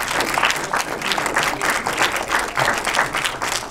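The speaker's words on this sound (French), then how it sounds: "vous pouvez l'applaudir" Audience applause at a film conference, dense, steady clapping from a sizable crowd filling the whole stretch at close range.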